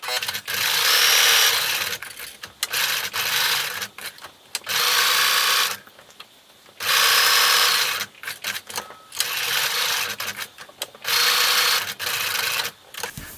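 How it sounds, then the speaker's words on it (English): A sewing machine stitches a straight line around the edge of a fabric bookmark, whirring loudly in five bursts of a second or two, with short pauses and clicks between runs. "Now you're going to sew around the edge 3/8 inch, and you're just going to do a straight line"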